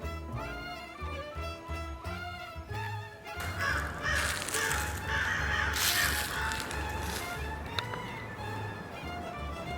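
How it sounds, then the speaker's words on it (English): A crow caws repeatedly in a forest, several harsh calls rising over dense music and background noise, moderately close and fairly loud. "That Madam Crow is a truly inspirational individual"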